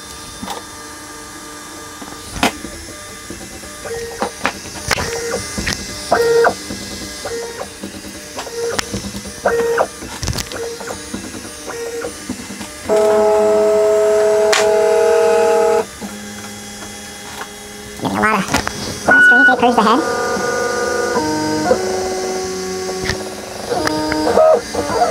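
Prusa i3 MK2S 3D printer running its first print, stepper motors whirring and buzzing in varied tones with short pauses, steady sustained passages and clicking head moves, fairly close with no talk.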